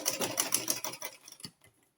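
A sewing machine runs briefly while stitching around a bubu butterfly dress with a keyhole, a quiet rapid whir that slows and trails off into near silence.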